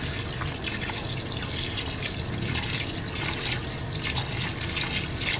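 Water poured into a basin of salted galunggong fish soaking during dried-fish preparation, a steady close splashing and trickling wash that runs evenly throughout with no talk.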